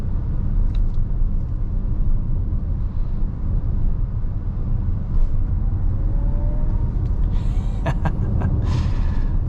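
A 2024 Audi Q4 e-tron electric SUV accelerates on the road, giving a steady low rumble of tyre and road noise without engine roar, with a faint rising motor whine and some brief voice sounds late on.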